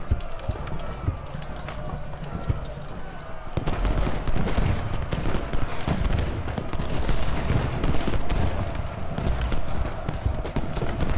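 Musket volleys in the Civil War strategy game Ultimate General: Gettysburg, a dense rolling crackle of massed rifle fire that thickens after a few seconds and keeps up steadily, with a low rumble beneath.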